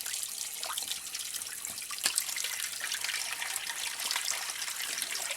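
A gentle stream of cold tap water runs into a sink while Royal Marine issue arctic wool socks are rinsed, a steady trickling splash with occasional drips.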